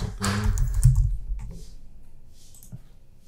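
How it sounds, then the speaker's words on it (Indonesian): Keystrokes on a computer keyboard while entering text in Adobe Illustrator, a quick cluster of close clicks up front that thins into a few scattered taps and quiet. "kita pakai uh, eh, envelope distort juga kita ketik dulu teksnya"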